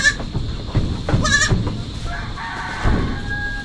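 Goats bleating in a backyard, a few short calls rising over a busy farmyard background with other livestock noise and faint rustling throughout.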